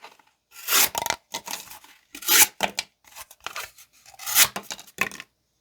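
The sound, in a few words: folding knife cutting cardboard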